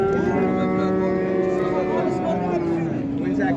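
A milking cow moos at a livestock market, one long sustained low call held for several seconds, loud and near, with faint crowd noise underneath.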